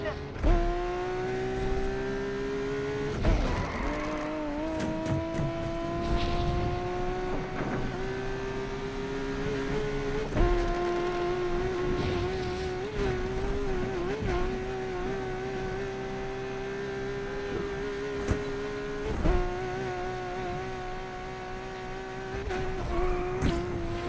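Race cars roar through a Need for Speed Unbound street race, one engine note climbing steadily through gears with brief shifts and bursts, loud and continuous throughout.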